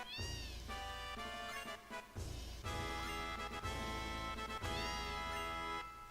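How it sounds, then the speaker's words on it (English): Cats meowing in Final Fantasy VII, a run of repeated rising and falling mews in quick succession, clear and close with no talk. "Oh my god, little kitties!"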